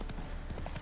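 Roach, a horse in The Witcher 3 video game, galloping with steady rapid hoof clip-clops over a dense game backdrop, close and fairly loud.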